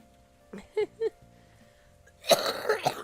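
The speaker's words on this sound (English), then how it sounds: "Ah! I'm coughing." After a few short vocal sounds, a person lets out a harsh burst of coughing close to a microphone, two or three rough coughs in quick succession.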